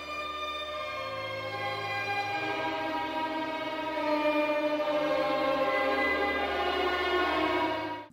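Menu music from the video game Grand Theft Auto IV plays, with sustained tonal layers over a low droning bass that swells slightly midway and fades at the end.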